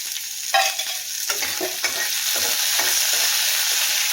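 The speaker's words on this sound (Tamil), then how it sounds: "நல்லா வதங்கட்டும்." Ridge gourd sautés in a little oil in a pan, a steady close sizzle broken by several sharp scraping stirs of a spoon against the pan over about four seconds, with no voices.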